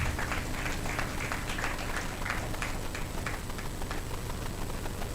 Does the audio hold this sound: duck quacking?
no